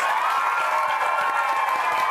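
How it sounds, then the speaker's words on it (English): A studio audience at a webchat gives a round of applause, a dense, steady wash of clapping with some cheering that fills the whole moment at an even level, without speech. "Just one huge round of applause again for Garry Parsons,"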